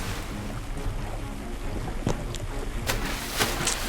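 A boat cuts across the sea in the video game Blox Fruits, with continuous wind and wave-like rushing noise and a few sharp splashy clicks, no speech.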